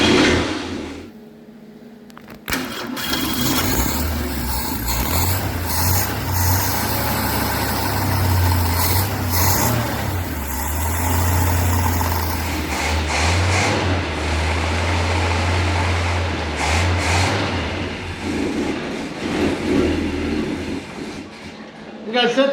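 A 1970.5 Ford Falcon's freshly installed 250 cid six-cylinder cranks and catches, then runs on choke with a steady, loud rumbling idle for a long stretch, with people talking over it at times.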